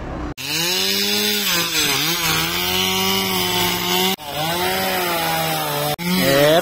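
A chainsaw cuts through wood at a ranch earthwork site, its engine whining loud and close in a sustained drone that shifts pitch under load, with two brief cuts in the sound.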